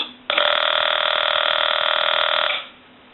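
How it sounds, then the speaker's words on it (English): A Western Electric 202 rotary desk telephone's harsh, steady electric ringer buzzer drones continuously for a little over two seconds, loud and close, then cuts off abruptly. "we're going to ring the telephone, but it's actually a buzzer"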